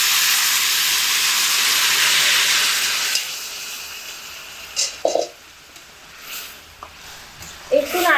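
Boiled jaggery poured over hot dried jujubes in a pan gives a loud, broad sizzling hiss that dies away after about three seconds, followed by quieter scattered clinks and stirring.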